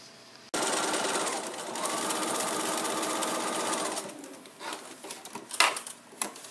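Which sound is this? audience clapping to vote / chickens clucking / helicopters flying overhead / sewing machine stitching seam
sewing machine stitching seam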